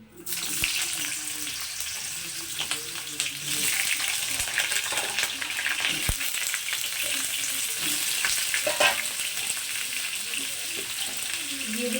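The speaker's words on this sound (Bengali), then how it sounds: "এই তেলের মধ্যে আমি এখন কুমড়োগুলোকে একটু ভেজে নেবো" Pumpkin pieces drop into hot oil and fry with a loud, continuous sizzle and crackle, close by and steady from start to finish after a brief sharp onset.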